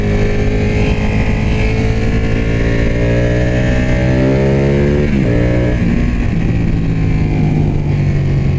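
A 2016 Ducati 1299 Panigale engine droning loudly while riding, its pitch climbing through the gears with a brief dip at a shift, then steady, heard up close and continuous.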